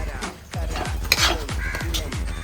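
Squid roast (kanava) with crushed masala stirred in a huge pan holding a 100 kg batch, giving about five evenly spaced heavy scraping clanks of the utensil against metal, close and fairly loud.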